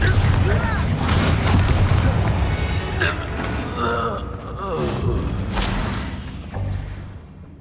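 In Hogwarts Legacy, a fiery Confringo explosion spell bursts with booming blasts and crackling impacts amid combat noise, close and loud, alongside a speaking voice.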